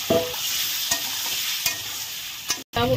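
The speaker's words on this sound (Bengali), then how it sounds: "দেখো আলুগুলো আমি এখন একই তেলে ভেজে নিচ্ছি" Potato pieces fry in oil reused from frying eggs, a close, steady sizzle with a few sharp spatula clicks and a brief drop to silence near the end.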